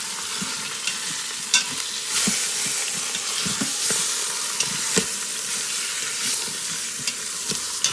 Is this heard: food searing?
yes